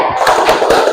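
Rhythmic hand clapping from a classroom group doing the "Tepuk P5" clap chant, a quick series of sharp, moderately loud claps over about a second with no talking.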